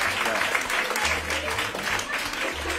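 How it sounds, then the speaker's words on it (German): A German TV show's studio audience applauds for a contestant over low background music. The clapping is dense and continuous throughout the short stretch. "Nochmal einen Applaus, das war sehr fair."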